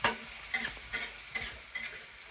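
Meat stir-fried in a pan, with about five spaced scraping stirs over a low sizzle, close and fairly quiet, and no talking.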